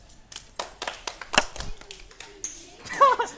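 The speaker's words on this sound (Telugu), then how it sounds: "Well done, claps." A few scattered hand claps and taps from children at a kids' game show, sparse and uneven, mixed with light chatter and a brief burst of kid voices near the end.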